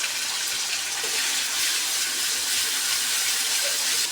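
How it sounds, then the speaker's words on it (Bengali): Water hits a pan of frying spices for a soybean curry, a loud continuous hissing rush of steam and bubbling that holds steady from start to finish. "এখন একটু জল দিয়ে দিলাম নিলে মশলাটা পুড়ে যাবে"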